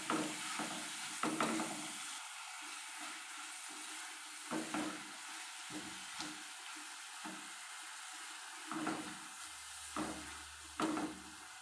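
Mackerel roast stirred in a frying pan, a soft steady sizzle with repeated scraping strokes of a spoon against the pan at irregular intervals, close and fairly quiet.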